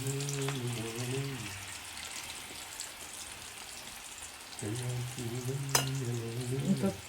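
Raw prawns frying in a pan, a continuous close sizzling hiss like light rain, with a low hum coming and going in the background and a single sharp clink; no talk.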